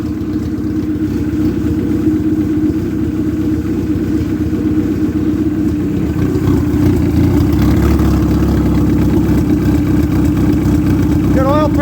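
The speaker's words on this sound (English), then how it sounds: "All right, she idles." A Dodge Neon engine running on a floor test stand, idling with a loud, steady, droning hum and rough low rumble, close by and unbroken; the tone shifts slightly past midway and a voice speaks briefly near the end.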